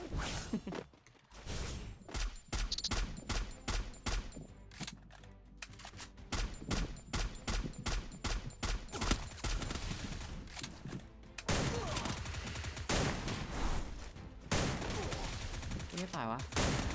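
Dense rapid gunfire from the Free Fire mobile battle game, with bursts of automatic shots and volleys crackling nearly nonstop, loud and close, with a brief lull before a heavier barrage.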